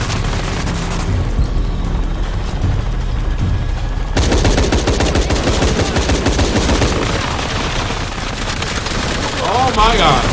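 Bursts of gunfire ring out in the video game Shadow of the Tomb Raider, loud rapid shots and booms layered over game music, with a harsh cut midway and more dense shooting after.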